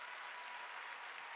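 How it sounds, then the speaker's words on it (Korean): Applause from a church congregation during a Wednesday worship service, a steady dense burst of many hands clapping close by, with no other sound. "내가 언제 박수 치랬어?"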